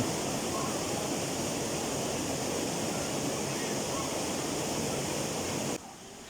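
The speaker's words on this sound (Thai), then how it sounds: "น้ำตกนี้ก็เป็นอีกหนึ่งน้ำตกที่น่าสนใจ" A steady, loud roar of a waterfall in Surat Thani, Thailand fills the air without pause, broad and constant, then drops abruptly to a quieter rush near the end.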